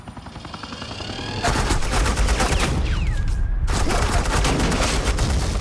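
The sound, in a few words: suppressing gunfire in Batman The Enemy Within video game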